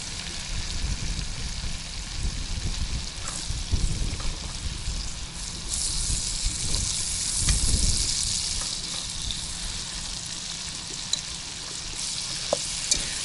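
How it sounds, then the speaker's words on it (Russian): Leeks fry in a pan at a nighttime camp kitchen, giving a steady close sizzle with occasional stirring scrapes and faint clinks, no talking. "парей тут уже у нас жарится"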